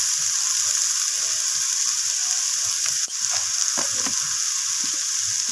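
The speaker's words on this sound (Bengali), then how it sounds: "আমি আবারও পেঁয়াজ কলি বেগুনের সাথে মিশিয়ে নিয়ে একটু নাড়াচাড়া করে ভাজা করে নিচ্ছি" Eggplant and onion stalks stir-fry in a pan with turmeric and salt, giving a steady close sizzle with soft scraping stir strokes and a few sharper clicks.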